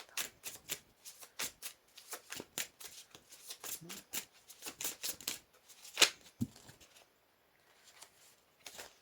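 A deck of tarot cards is shuffled by hand, giving rapid riffling and flicking bursts in quick succession, close up and fairly soft, ending with a brief pause and a few light taps.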